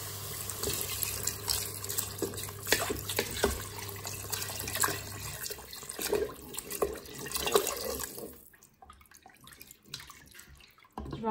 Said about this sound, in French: Et je vais ajouter mon eau.